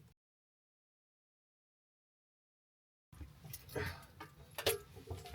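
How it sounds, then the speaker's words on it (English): Campervan keys jangle and clink close by after a stretch of silence, a busy cluster of metallic rattles growing louder toward the end. "I'm gonna go and get the keys"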